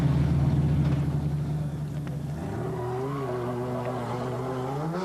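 The T3 Schlesser Special rally car with its Seat V6 engine at the 1997 Tunisia rally, a loud close engine drone that drops and then climbs again as it revs and accelerates away.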